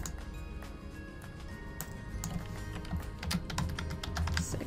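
Steady typing on a computer keyboard, close and clear, with quick irregular key clicks running throughout and growing somewhat busier toward the end, with no talking.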